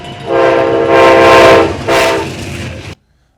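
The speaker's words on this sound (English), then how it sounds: "presidential candidate Joe Biden rolled through Kent and Ravenna on his train tour of Ohio and western PA" A train on a campaign rail tour through Kent and Ravenna, Ohio, blows a loud, sustained horn in two long blasts over rumbling wheels, then cuts off abruptly.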